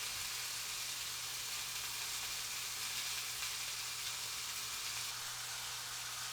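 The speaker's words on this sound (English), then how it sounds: "you're just going to want to sear each side until golden brown" Elk meat searing in a hot pan, a constant soft frying hiss held close and even for several seconds with a faint low hum beneath and no voices.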